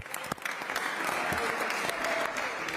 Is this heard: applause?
yes